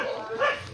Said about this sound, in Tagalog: ang aso niya napakaingay